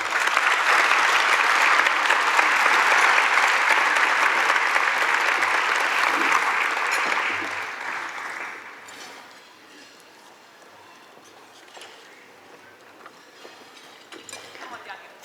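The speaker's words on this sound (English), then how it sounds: "And let's have a nice round of applause." Audience applause at a school district teacher awards ceremony, a dense, steady clapping from a crowd that holds for several seconds, then fades to scattered claps and quiet room noise.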